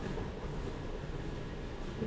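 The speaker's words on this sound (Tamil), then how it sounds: "இந்த ட்ரெயின் பாருங்க" A toy Christmas train runs in a holiday display with Santa riding it, giving a continuous low rumbling whir that stays steady and close throughout, with no voices.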